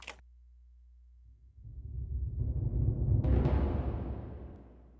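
Drums with excessive reverb build into a dense, washy roar with a long, smeared reverb tail swelling and slowly fading, no clear individual hits.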